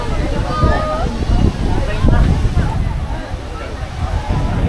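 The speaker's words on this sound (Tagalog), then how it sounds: "Grabe lakas ng hangin." Gusty, strong wind in Tagaytay, Philippines roars and buffets the microphone in a steady, heavy rush, with voices talking over it.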